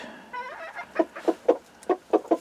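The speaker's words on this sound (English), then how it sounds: "That is two of the Old English game birds sharing a nest." Two Old English game hens sharing a nest give a run of soft, rhythmic clucks, about six evenly spaced pulses after a brief warbling trill, close by with nobody talking.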